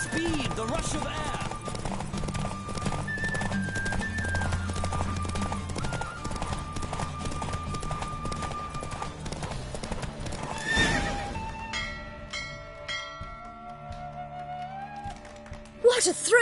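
Galloping horse during a race in a Witcher video game, a steady rapid clip-clop of hooves with whinnies, under music and talk, easing off toward the end.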